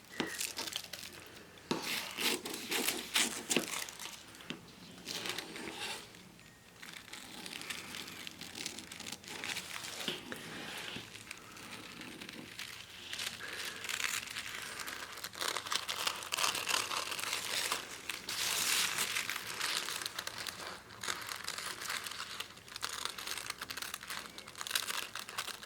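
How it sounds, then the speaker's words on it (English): Scissors cut a paper sewing pattern along a size line, making close, repeated crisp snips and crinkling rustles of paper that continue steadily with no talking. "I would then just really carefully, as accurately as possible, cut along the size 14 line."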